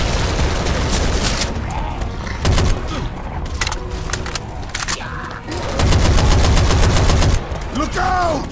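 Rapid bursts of video game gunfire, machine-gun rattles and scattered single shots, loud and close, running nearly continuously with brief gaps, with faint voices in the background.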